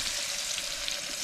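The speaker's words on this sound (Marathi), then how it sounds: "कलेजी चांगला इकडं मस्त उकळलेला आहे." Chicken liver boiling in a pot over a wood-fired stove in a farm field, heard as a steady bubbling hiss, close and even for the whole short stretch, with no voices.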